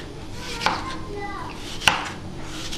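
Two crisp, sharp knife chops through apples on a board for an apple tart, spaced about a second apart, close and clear against a quiet kitchen background.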